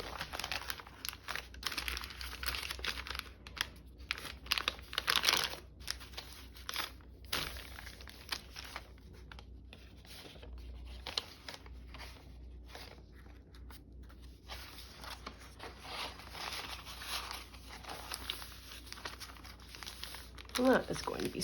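Paper crinkles and rustles up close in dense, uneven bursts while it is folded, with sharp crackles and brief pauses, mixed with intermittent talking.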